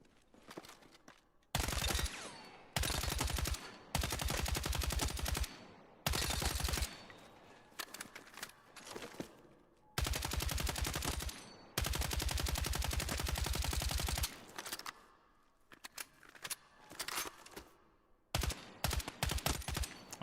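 Full-auto bursts from an EF88 rifle in Battlefield 6, several long sustained strings of rapid fire separated by short pauses, loud and close, with no talking over them.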